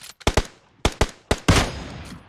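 Gunfire in the mobile battle royale game PUBG Mobile: a string of sharp, loud shots in short bursts, two quick pairs and singles, ending in a denser rattling volley, with no talking.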